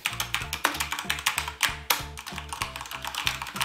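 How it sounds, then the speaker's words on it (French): Rapid typing on a Corsair K70 RGB RapidFire mechanical keyboard, a dense run of crisp, bright keystroke clicks in an uneven rhythm, close and fairly quiet, with no talking. "on va regarder le côté sonore de ce clavier, puisqu'on a affaire à un clavier dit mécanique"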